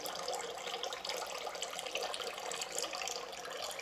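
Thick, oddly coloured fluid drains slowly out of a Coyote engine with a steady, continuous trickling pour that stays close and even throughout.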